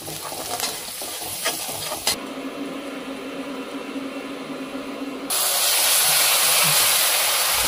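Masala with grated ginger sautés in a pan for aloo sabji, a few clinking stirs at first, then a steady frying hiss that swells into a louder, brighter sizzle near the end, close and without talk.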